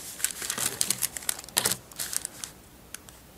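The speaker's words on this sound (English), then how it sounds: "just take my rotary cutter and cut" A rotary cutter rolls through the thin pages of a telephone book, making quick crisp crackles and small snips in an irregular run. The sound is close and fairly quiet, and no one speaks.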